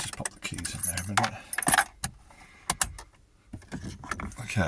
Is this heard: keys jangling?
yes